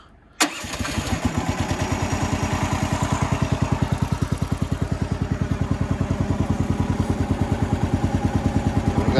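A sawmill engine catches with a sharp start, then settles into a loud, steady, rapidly chugging run at close range, keeping an even pulsing rhythm throughout with no voices.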